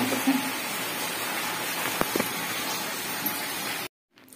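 Evening rain falls steadily as a continuous hiss of drops with a few louder taps, heard alone and without talk before cutting off abruptly near the end.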